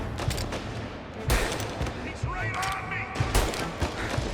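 Gunfire in the Mafia video game, bursts of shots in quick succession with mechanical clatter and bright impacts, over a continuous game soundscape.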